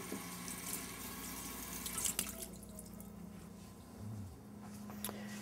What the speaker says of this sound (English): Now I run them under a little water just to moisten them.